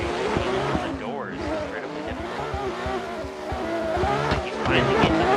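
Drift car in a sim racing game at EnglishTown, sliding sideways with tire squeal and a revving engine held at high pitch, loud and continuous with a voice talking over it.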